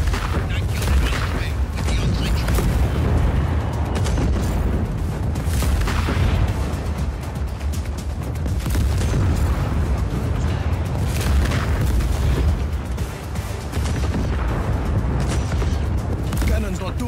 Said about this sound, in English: Cannon's not doing so good.